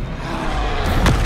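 An Expelliarmus disarming spell in Hogwarts Legacy lands with a single sharp slamming thud near the end, set against a continuous rumbling game background.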